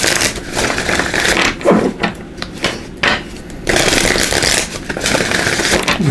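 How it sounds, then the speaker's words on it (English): An energy oracle card deck being shuffled by hand: repeated bursts of papery riffling and rustling, close up and fairly loud, with short pauses between rounds and no talking. "I'm going to give these a shuffle."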